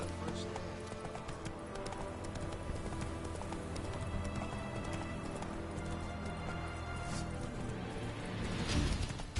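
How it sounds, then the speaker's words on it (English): Galloping horse in The Witcher 3 video game, continuous rapid hoofbeats close and loud, with a brief whinny and busy game sounds mixed in and a louder burst near the end. "Run, Roach."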